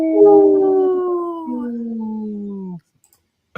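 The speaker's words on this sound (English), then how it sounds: "will always pull up a little wolf howling" A single wolf howl, loud and close, a long sustained tone that slides slowly downward, breaks briefly and then trails off before cutting to silence.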